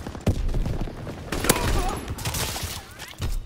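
Dense gunfire from the Call of Duty WWII video game, with rapid bursts and sharp single shots cracking loudly and continuously, overlapped by voices calling out amid the battle.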